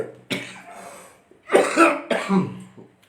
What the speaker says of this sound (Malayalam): ചെറിയ ചുമയൊക്കെയാണ്, ക്ഷമിക്കണം.